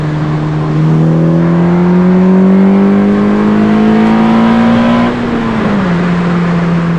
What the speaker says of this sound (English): Do a little pull, you can watch it turn on, you know. Third gear.